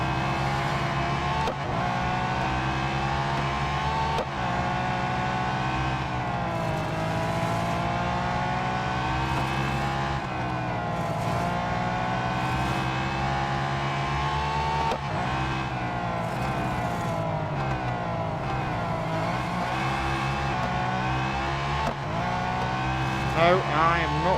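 Race car engine in the mobile racing game Real Racing 3: a continuous high revving whine with pitch rising and dropping through gear changes across the whole stretch, under steady talk.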